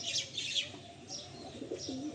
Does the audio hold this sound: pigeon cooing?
yes